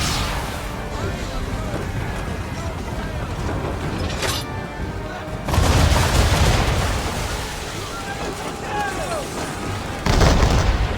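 Heavy booming cannon fire in Assassin's Creed III, several deep blasts spread across the stretch with rumbling gunfire and clatter between them, loud and close.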